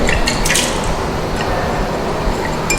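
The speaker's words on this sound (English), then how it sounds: "So rinse it thoroughly with the distilled water" Glassware being rinsed with distilled water during a water hardness titration in a lab, giving a steady wet squishing and splashing with a few brighter drips and clinks, close and continuous with no talking.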